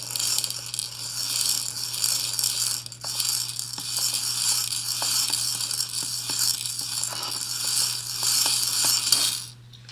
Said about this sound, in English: We're going to have the wheel spin this way.